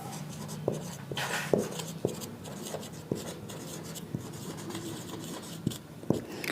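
Pen writing notes by hand on paper, with steady scratchy strokes and small taps recurring at close range, fairly quiet, with no talk.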